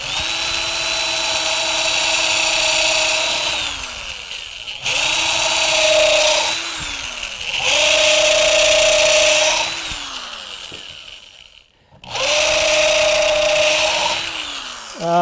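A power drill with a small bit bores anchor holes into native lumber in three long, loud runs of steady whine, each ending as the motor winds down, with a final burst starting after a short pause.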